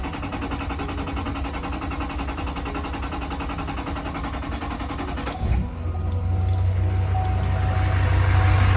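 A 2019 Chevrolet Silverado engine, just fitted with a new fuel rail and pressure regulator, runs steadily and loudly, then its tone shifts midway into a lower, settling idle that stays constant to the end.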